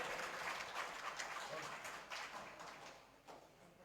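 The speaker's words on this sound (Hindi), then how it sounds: "तालियां तो बजाइए।" Clapping from the audience at a Hindi kavi sammelan poetry gathering in Unnao, a faint, soft patter of many hands heard at a distance in a reverberant space, with a few sharper claps rising now and then.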